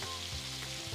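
Prawns crackle and sizzle loudly in hot oil, a close, dense continuous frying sound with no voices.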